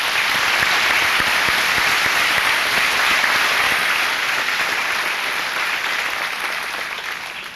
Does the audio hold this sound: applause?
yes